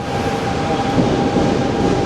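An RER commuter train at Marne-la-Vallée Chessy station near Disneyland Paris produces a loud, steady rumble and hum, continuous throughout and with no voices.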